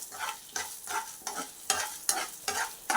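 Dried red chillies frying in oil for fenugreek-leaf chutney, stirred in a pan: about seven rhythmic scraping stirs over a soft, continuous sizzle, close and clear with no talk.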